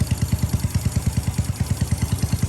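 Motorcycle engine idling steadily right after a 53 exhaust kit install on a stock engine with an upgraded fuel injector, being run in. Even, rapid low thumping pulses, close and alone, no voices.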